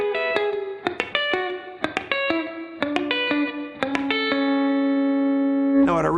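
Electric guitar plays a chicken pickin' lick slowly, with clipped, snappy plucked notes in short groups stepping down the neck, then a held ringing note, close and clear with light effects.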